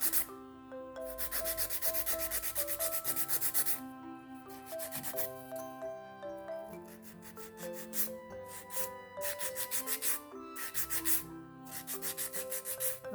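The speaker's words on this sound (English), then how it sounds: "So let me just crispen up the shape using my hand file instead" A hand file rasps steadily against fingernails in quick back-and-forth strokes, close up, in several bursts with brief pauses between them.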